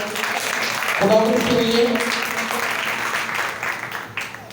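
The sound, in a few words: church congregation applauding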